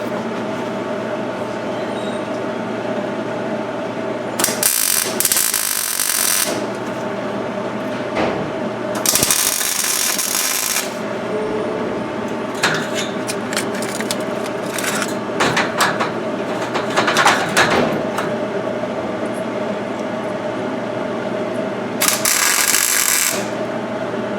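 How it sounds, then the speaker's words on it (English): A MIG welding gun making tack welds on a metal joint, with three bursts of harsh, loud crackling buzz, each lasting about two seconds, against a steady mechanical hum and some clatter. "the tack weld is accomplished by holding the MIG welding gun in the same place for about 2 seconds"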